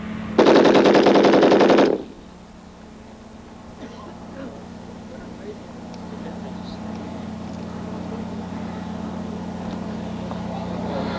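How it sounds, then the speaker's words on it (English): A foreign tripod-mounted machine gun fires one steady burst at about 650 rounds a minute, loud and close for under two seconds, followed by a low engine-like hum in vintage military training footage. "it'll be about 650 rounds a minute. You'll notice it's a very steady gun. There's very little commotion when it's firing."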